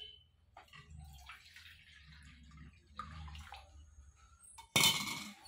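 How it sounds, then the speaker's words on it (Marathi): Jaggery water poured through a strainer into a bowl gives a soft, intermittent trickle and splash close by, ending in a brief louder gush of pouring. "एका वाटीत मी हे पाणी आपलं गुळाचं गाळून घ्यायचंय"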